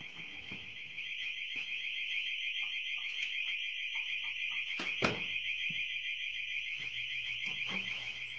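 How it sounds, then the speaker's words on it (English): A hotel fire alarm sounds continuously as a loud, steady electronic tone, with a sharp bang partway through and faint movement noises underneath. "one of Daniel's last videos was him recording as a fire alarm went off at the hotel he was staying at"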